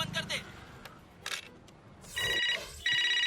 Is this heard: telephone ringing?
yes